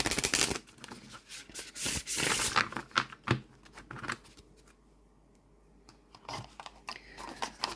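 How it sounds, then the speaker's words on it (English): A linen-finish oracle card deck, the Nocturna Oracle, is shuffled by hand nearby in quick riffles and crisp flutters that come in bursts and then settle into softer, scattered card taps. "And we'll look at the shuffle. lovely shuffle."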